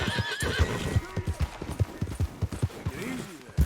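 Horse hooves clip-clop in a steady rhythm with a whinny, from the Red Dead Redemption II video game, close and loud, with game voices speaking alongside.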